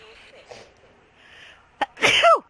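A single sharp sneeze bursts out near the end, preceded by faint background murmuring voices during a Call of Duty Black Ops III zombies game session.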